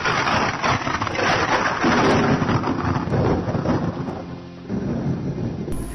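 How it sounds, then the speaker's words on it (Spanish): Heavy rain pours during a thunderstorm at the 1957 Valencia flood, a loud, dense, steady roar with rumbling thunder swelling through it and no voices. "Y en ese momento comenzó a llover con furia."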